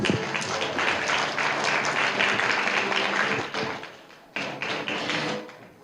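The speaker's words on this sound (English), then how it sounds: "Once again, a big round of applause." A room full of people applauding steadily at a forum signing ceremony in Taiwan, dense clapping that dips briefly and then swells again before fading.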